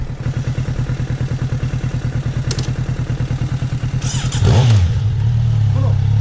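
A motorcycle engine idles with a steady rapid putter, then revs up louder and holds a higher drone, close by.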